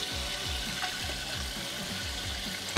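Water running steadily into a homebrew vessel while preparing brewing water for a quick IPA, a continuous splashing, gurgling stream heard up close with no talk.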